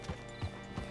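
A horse's hooves clip-clop in Red Dead Redemption 2, with three soft, evenly spaced hoof falls at a slow walk, faint and isolated.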